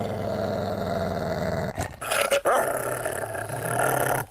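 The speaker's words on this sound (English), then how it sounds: "You can do certain things such as growling, barking, sniffing, all that." A dog in a GTA roleplay game growls low and continuously, breaking into a couple of sharp barks midway before the rumbling growl resumes, loud and close with no talk.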